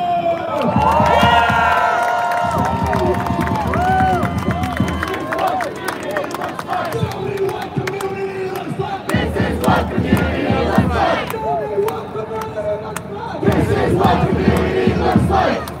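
A large crowd roars, cheers and shouts continuously, with bursts of yelling and clapping rising and falling throughout.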